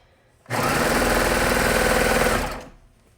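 A sewing machine stitching a sleeve seam on a jersey, one loud, steady burst of rapid needle chatter lasting about two seconds before slowing to a stop, close by with no talking.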